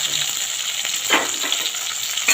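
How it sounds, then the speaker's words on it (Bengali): Pieces of rohu-type fish frying in hot oil for a mustard fish curry, a steady close sizzle with brief louder crackles and a spatter near the end, no voices. "বাকি মাছগুলো এইভাবে আমি একটু ভেজে নেবো"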